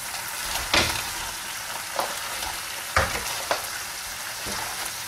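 Fried tilapia goes into thickened, simmering coconut milk, producing a continuous bubbling sizzle broken by a few sharp clatters and splashes as the pieces are added.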